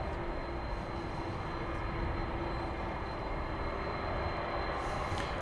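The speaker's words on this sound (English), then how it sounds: "ABX Air flight operating on behalf of DHL going to Cincinnati" ABX Air cargo plane operating for DHL at DFW by night, a steady broad engine roar at moderate distance holding level throughout with a faint thin tone over it.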